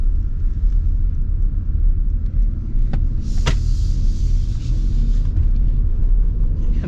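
A 2026 Lexus RX 350h hybrid rumbles steadily from inside the cabin as it drives and accelerates, a low continuous road and engine drone with a couple of faint clicks.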